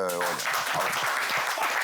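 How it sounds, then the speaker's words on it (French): Short burst of studio audience applause breaking out right after a sung or held vocal note, with voices mixed into the clapping. "On applaudit"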